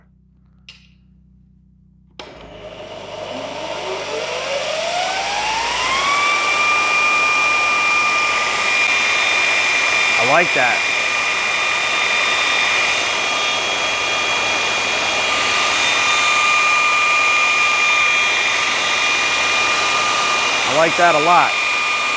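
A VEVOR 2x72 belt grinder starts up and ramps to a steady, loud whirring drone with a high whine that holds throughout, with brief clicks and a short spoken remark over the running motor.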